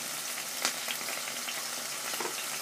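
Steak frying in a hot pan gives a steady, close sizzle with a few brief pops and crackles, and no voices.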